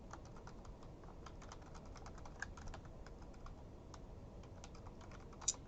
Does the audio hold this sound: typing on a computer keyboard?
yes